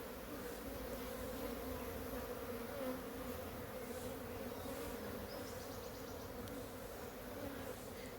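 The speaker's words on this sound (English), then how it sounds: "I am not shaking the bees off the frame because I want to move some of the house bees into the other frame." Honeybees on a hive frame during a swarm-prevention inspection, a dense continuous buzzing drone from many bees held close, steady throughout with no voices.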